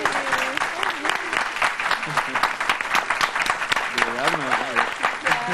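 A television studio production crew gives a round of applause on a dubbing programme, steady clapping heard under animated voices talking and laughing over it throughout.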